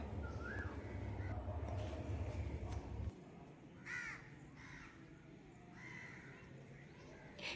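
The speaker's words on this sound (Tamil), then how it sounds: "அந்த பறவைங்க சவுண்டு." Crows cawing in the morning at a riverside Shiva temple, several short harsh calls scattered at moderate distance over a low rumble and faint background voices.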